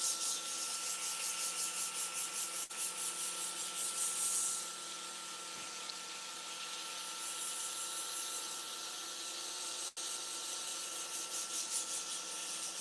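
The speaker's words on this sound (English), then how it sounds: "So right now I'm just sanding to get down to the bushings" Steady abrasive rubbing of sandpaper on a fountain pen blank, sanded down to the bushings, over the hum of a spinning lathe, continuous and close, shifting slightly in tone partway through.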